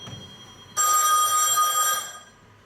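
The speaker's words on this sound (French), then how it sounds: "le téléphone." A telephone rings late at night, one loud, sharp, sustained bell ring that stops abruptly after about a second, with a faint quiet background before and after.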